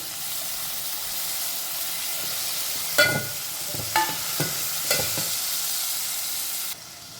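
Turmeric and tomatoes fry in a hot pan for a Telangana chukkakura pachadi, giving a steady sizzle broken by several louder stirring scrapes, close and continuous.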